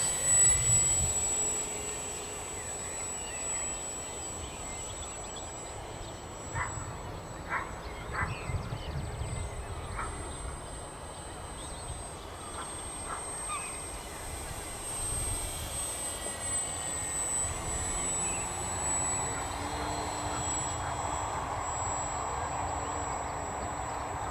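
A small FMS 1.4 m Piper J3 Cub model airplane flies in gusty wind outdoors, its faint electric motor drone steady and distant beneath heavy wind buffeting on the microphone.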